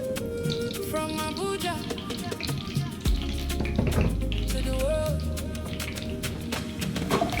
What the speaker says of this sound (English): In a heated pot, add your small vegetable oil.